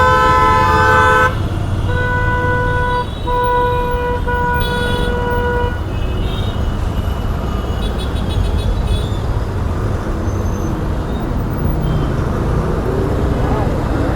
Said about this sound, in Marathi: किती ट्रॅफिक आहे यार.